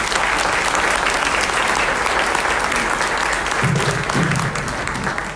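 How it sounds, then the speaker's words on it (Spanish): Sustained applause from a large crowd, steady and loud throughout, tapering slightly toward the end. "Un fuerte aplauso para el doctor, por favor."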